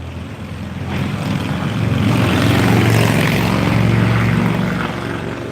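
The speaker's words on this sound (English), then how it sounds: "Listen to my engine at 3 in the morning." An engine running at 3 in the morning, a steady droning hum with a low throbbing tone that swells slightly in the middle, heard alone and fairly close.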